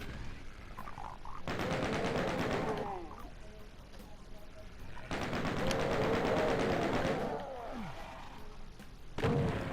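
Chaingunner enemies in Doom 2 on PS4 open fire in two long rapid bursts of chaingun shots, loud and close, with shorter gunfire at the end and brief gaps between volleys.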